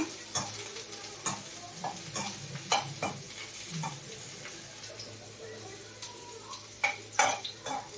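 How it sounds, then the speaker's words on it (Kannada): Okra frying in oil in a pan for a bhindi curry, with a steady soft sizzle and scattered stirring clicks and scrapes at a moderate distance, no talking. "ಇದು ಈಗ ಫ್ರೈ ಆಗ್ತಾ ಬಂದಿದೆ ಇನ್ನೊಂದು ಸ್ವಲ್ಪ ಒಂದು ಎರಡು ನಿಮಿಷ ಫ್ರೈ ಮಾಡೋಣ"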